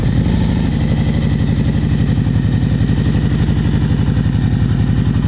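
Motorcycle engine ticking over at low throttle during slow-speed riding practice, a steady, loud, even pulsing idle that runs continuously without pause.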